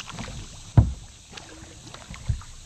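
A kayak paddles along Tibbee Creek in Mississippi, with a couple of hollow thumps and knocks of paddle against hull over soft water and wind noise.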